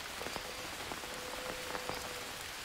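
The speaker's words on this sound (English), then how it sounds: "And it's raining, which is awesome." Rain falls in the jungle survival game Green Hell, a steady even hiss of drops hitting surfaces with a few sharper patters, with no talk over it.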